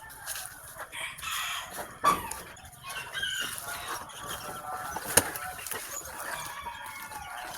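Chickens cluck steadily with a rooster crowing among them in a backyard coop of fancy hens, several sharp calls rising over constant fowl chatter and rustling.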